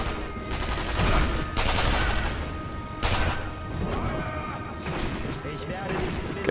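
Gunfire in the video game Sniper Elite V2, with bursts of machine gun shots and crashing impacts loud and close, heavy noisy bursts recurring across the stretch while a voice talks over them.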